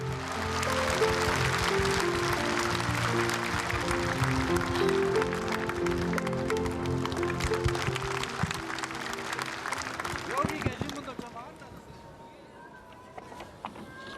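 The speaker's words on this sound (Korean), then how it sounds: "뜨거운 박수로 맞아주시기 바랍니다." Warm audience applause greets the National Assembly speaker as he takes the stage at a memorial ceremony, loud and sustained over music, then dying away toward the end.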